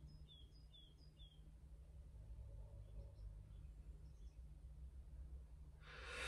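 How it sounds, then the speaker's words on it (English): A few faint high bird chirps early on, soft and distant, over a steady low hum of distant background traffic, heard from inside a parked VW Caddy van. "Can you hear the birds?"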